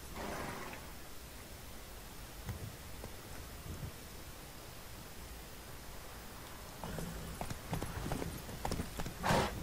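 Horse hooves clip-clopping in The Witcher 3 as a horse is ridden off, a soft irregular patter of hoofbeats under ambient game noise, faint and distant at first and growing closer and more distinct toward the end.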